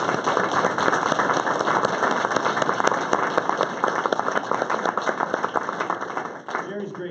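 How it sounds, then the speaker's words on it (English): An audience at a community meeting with the sheriff and a commissioner applauds a sheriff's deputy, dense, sustained clapping from a crowded room that keeps going for several seconds before starting to thin out. "give him a round of applause"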